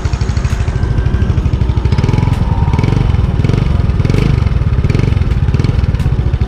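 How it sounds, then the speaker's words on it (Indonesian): Yamaha Nouvo motorcycle running with its exhaust note, a steady, close and loud engine burble with a fast regular pulse and slight revving swells, no one talking. "Ini motornya udah nyala, suara knalpotnya kayak gini."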